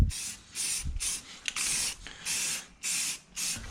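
Aerosol spray paint hisses in repeated bursts of about half a second each, loud and close, as coats go onto car parts before a VR6 car's wheels are painted. The bursts are separated by short quiet gaps, with no talking.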